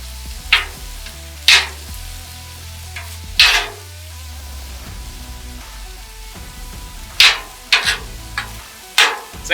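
Thin-cut steak fajitas cooking with olive oil on a grill, a steady low sizzle broken by several sharp bursts of stirring and scraping at irregular intervals, close up with no talking.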